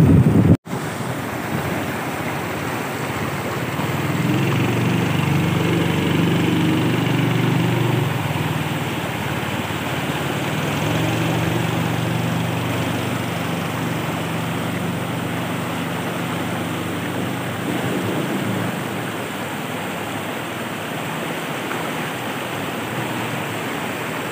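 A river in Aceh rushes past in a steady, loud roar of turbulent water, with wind noise buffeting the microphone and no voices.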